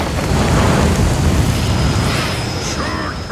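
A cartoon volcano eruption: a loud, continuous roaring rumble, broad and powerful, holding steady for a few seconds before easing slightly.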